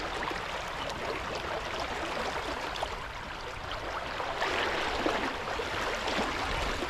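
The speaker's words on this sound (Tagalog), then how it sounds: "Lakas ng agos dito." Strong current at a fishing spot, a continuous hissing rush of flowing water, steady and fairly close, with no talk.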